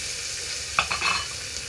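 Khichdi frying in a pan is stirred with a utensil, giving a quiet background sizzle and a couple of brief scraping strokes midway.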